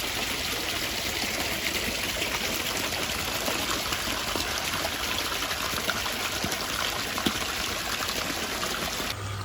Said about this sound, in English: You can see now the water's starting to fill up.